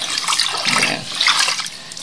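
Tap water runs in a steady, fairly loud broadband splash and hiss at close range, the flow continuing unbroken with slight surges, as if filling or rinsing something in a sink; no voices are heard over it.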